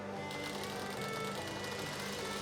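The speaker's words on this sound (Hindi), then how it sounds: "इसको कोने में सिलाई मार लेना है" A sewing machine stitching the corner of blouse fabric, a steady fast mechanical whirr running close and constant for a couple of seconds.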